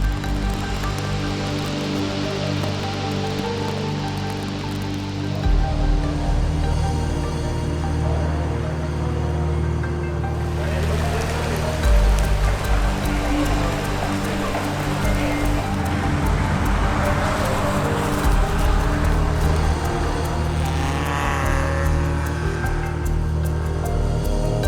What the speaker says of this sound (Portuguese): peguei uma carona comigo aí com pista molhada Interlagos com esse carro aqui